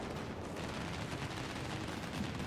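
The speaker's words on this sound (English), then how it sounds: "I'm going to turn on my anti-air guns" Anti-air guns on a warship in World of Warships pound away in a continuous dense barrage, a steady rumbling stream of rapid shots with no voices.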